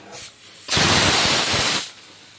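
Pressure cooker releasing gas while cooking ghugni: a short faint hiss, then a loud sustained burst of steam lasting about a second before cutting off.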